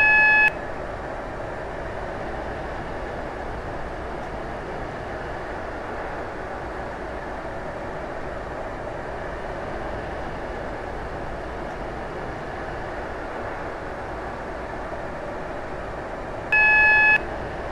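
A Class 458 electric train on a Stepford Connect service to Whitefield runs with a steady, even rumble heard from inside the carriage, framed by short electronic chime tones at the start and end.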